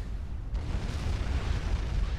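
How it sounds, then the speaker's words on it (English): Explosions rumble through a large Supreme Commander real-time strategy battle, a dense, continuous low roar of blasts and booming impacts with no clear gaps. "The first one explodes, takes out a couple of hit points, the second one being primaried"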